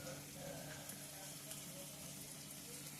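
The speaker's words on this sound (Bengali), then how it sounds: "এই দেখো আলু ভাজা হচ্ছে এখানে।" Potatoes fry in a pan with a faint, continuous sizzle and a watery crackle, steady throughout with no voices.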